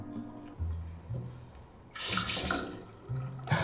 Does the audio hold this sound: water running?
yes